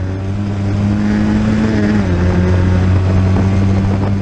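Onboard a historic Formula Ford racing car at Oulton Park, its engine droning loud and steady close by, pitch rising then shifting down through gears as it runs over the kerbs.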